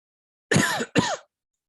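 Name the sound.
person coughing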